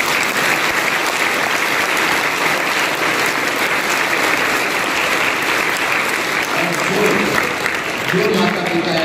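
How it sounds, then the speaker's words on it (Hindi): A large crowd at a political gathering in India applauds, a loud continuous wash of clapping from many hands that holds steady throughout, with some voices mixed underneath. "इस पे तो तालियां बजनी।"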